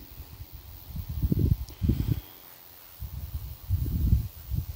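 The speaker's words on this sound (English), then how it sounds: "It's windy." Low wind buffets and rumbles in gusts, with a few pauses between rushes.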